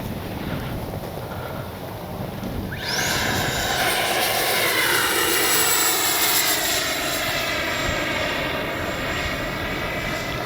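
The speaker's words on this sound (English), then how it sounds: "Ready to land the F-35." An XFLY F-35 70mm electric ducted-fan RC jet approaches to land with its gear down, a loud rushing turbine whine that swells sharply and sweeps in pitch as it passes near, with wind buffeting the microphone.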